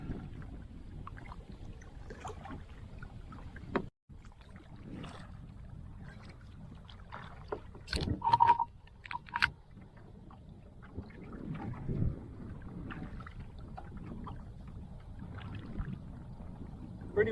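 Strong gusting wind over a swamp during bluegill fishing, buffeting the microphone in low rumbling bursts with a few sharp knocks and splashes, steady throughout the stretch.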